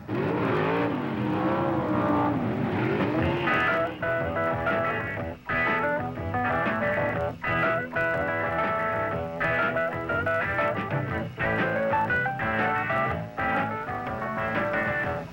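Drag racing cars at Ontario Motor Speedway in the 1970s roar at high revs, engine pitch climbing and dropping through repeated gear shifts, loud and continuous throughout, with no voices.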